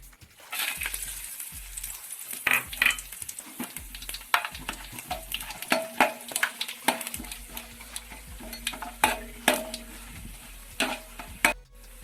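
Whole spices fry gently in oil over a low flame for egg biryani. A quiet, continuous sizzle runs under repeated light clinks and scrapes of a spoon stirring against the pan.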